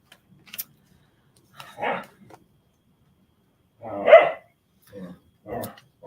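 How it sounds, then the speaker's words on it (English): Dogs under a table bark and scuffle in several sharp bursts, some yips among loud close barks, with short quiet gaps between them. "telling my dogs how not to bark when I'm trying to do this. They're under the table fighting."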